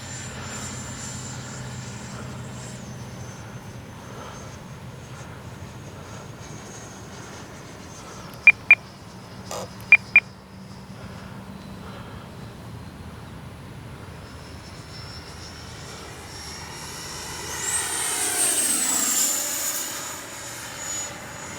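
A Freewing 90mm T-45 radio-controlled model jet flies overhead with a steady ducted-fan whine from a distance, a few sharp clicks near the middle, and the roar swelling louder near the end as it passes closer.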